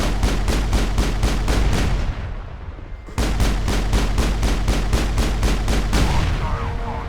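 Rapid, regular gunfire in the Mass Effect video game hammers loud and steady, pauses briefly, then resumes at the same pace over a low rumble.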